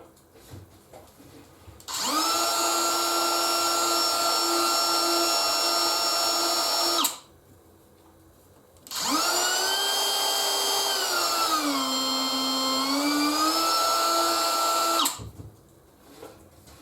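A DeWalt DCW604 18V cordless router runs in two long bursts, a steady high whine that spins up, holds, and winds down, with a dip in pitch during the second run as it bites into the cut, alone with no talk.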